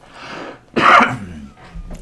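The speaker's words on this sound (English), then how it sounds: "Hang on, cough coming on." A single sharp cough bursts out close up after a short breathy throat sound, followed by a brief quiet exhale.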